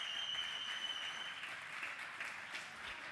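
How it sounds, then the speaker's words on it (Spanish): Applause from a crowd at a Counter-Strike: Source grand final esports event, a soft, distant and continuous patter of clapping, with a brief high whistle-like tone near the start. "Un aplauso para Lujuria."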